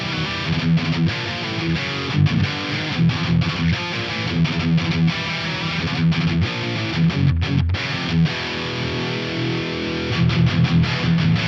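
Distorted electric guitar through a Hotone Ampero II Stage, playing chunky chords with a thick, smeared delay trailing each note, loud and continuous.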